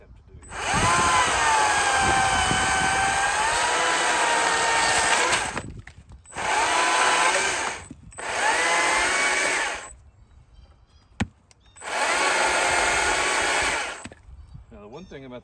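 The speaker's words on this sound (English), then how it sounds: "One thing about these electric saws that is a little dangerous is when they're on, they're on." An electric saw cuts limbwood on a saw buck in bursts: a long whining run, then several shorter cuts separated by pauses, with a sharp knock between them and faint background sound.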